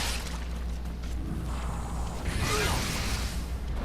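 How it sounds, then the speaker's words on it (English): A small wind blast from the Tengen Jaku guardian spirit attack in Nioh: a soft, breathy whoosh rising over a steady bed of game ambience, brief and moderately loud, with no voices. "It performs a small wind blast with a little bit of flinch damage for a small amount of damage."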